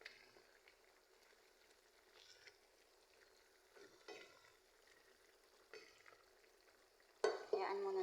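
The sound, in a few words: creamy shrimp sauce with corn being stirred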